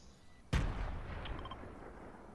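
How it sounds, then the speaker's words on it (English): A grenade blast in the video game Fortnite, one sudden loud boom that rolls off into a long, fading rumble, with faint clicks after it. "Oh, they have grenades, I think."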